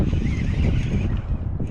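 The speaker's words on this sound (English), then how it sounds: "So the wind just picked up too all of a sudden." Wind suddenly picks up while fishing for smallmouth bass, roaring steadily and loudly against the microphone with a broad rushing wash and no talk.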